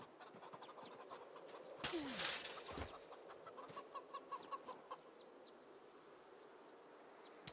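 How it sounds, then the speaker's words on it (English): Chickens in Project Zomboid cluck in soft, repeated bursts, a steady series of short calls alongside faint chirps and a brief noisy rustle, fairly quiet throughout. "So I am moving chickens right now"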